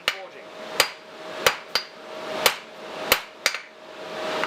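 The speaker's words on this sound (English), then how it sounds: "There we go, now you planish." A blacksmith's hammer strikes hot steel while planishing a square punch on the anvil, seven sharp ringing blows spaced irregularly about half a second apart, each with a bright metallic ring that decays quickly.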